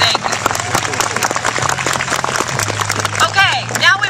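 Spectators clap at a Border Collie sheepdog competition, scattered outdoor applause running under someone speaking over a PA, with sustained tonal hum and a few whistle-like sweeps near the end.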